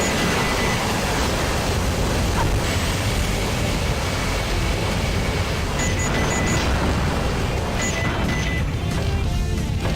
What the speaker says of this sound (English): There's a fighter jet on the side.